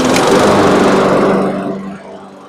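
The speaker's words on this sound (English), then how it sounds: "Now it sounds like a lawnmower." A Troy-Bilt-sized small engine runs loud and steady right after a pull-cord start, with a rough, lawnmower-like drone that drops somewhat in level near the end.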